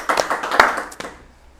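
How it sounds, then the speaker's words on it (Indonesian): A studio audience gives a short round of applause for a guest on the Indonesian talk show Matras Madiun Transparan, with a few sharp, close claps that quickly thin out and fade within about a second and a half. "Tepuk tangan sekali lagi buat Mbak Rindy Safira."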